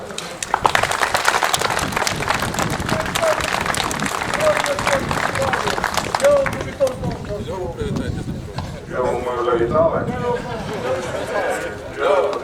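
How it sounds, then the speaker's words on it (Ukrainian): A crowd at a district football awards ceremony in Ukraine claps loudly for several seconds in a dense patter, then the applause thins as people talk and voices carry over it. "оплесками нашим захисникам"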